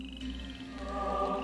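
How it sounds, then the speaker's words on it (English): Frogs croak in steady, overlapping calls within King's Quest 8, a low repetitive chorus that carries on with no speech over it. "and would you shut up, frogs?"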